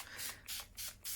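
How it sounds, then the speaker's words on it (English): A spray bottle mists water onto a colouring book page in four quick, evenly spaced bursts of hissing spray, close and fairly loud with brief quiet gaps between. "spray my page with some water"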